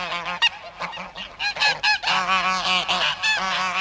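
A flock of geese honks continuously, with many overlapping nasal calls in quick, irregular succession, loud and close, with no voices.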